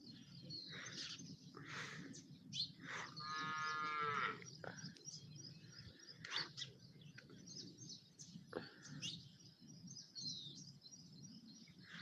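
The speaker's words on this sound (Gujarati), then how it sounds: "ઢોરે હવે બોલવા મળ્યા છે" Cattle moo several times at a moderate distance, one long drawn-out low, with birds chirping in the background of a quiet rural setting.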